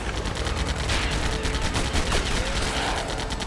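Gunshots in LEGO Batman: a dense, loud rattle of rapid shots over busy game noise, continuing without a break.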